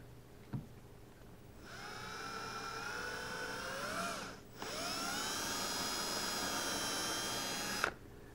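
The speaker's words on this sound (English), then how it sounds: "We're going to drill a hole in our boat." A power drill bores a hole through a boat hull while fitting a bow eye: a steady high-pitched whine runs for several seconds, slows briefly, then revs again before stopping abruptly.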